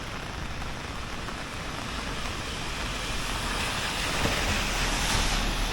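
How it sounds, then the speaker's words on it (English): Heavy morning rain pouring down in New York City, a continuous dense hiss with no distinct drops, steady throughout and swelling slightly toward the end. "It is pouring down this morning."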